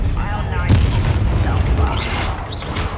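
The Confringo fire spell exploding in the Hogwarts Legacy video game, heavy booming blasts and crackling impacts among combat effects, with voices over the top.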